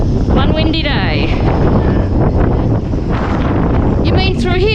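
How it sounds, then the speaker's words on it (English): Strong gusting wind, over 40 knots, buffets the microphone at a boat yard where a sailboat sits out of the water, a loud rough roar with whistling rigging tones while people speak over it. "One windy day."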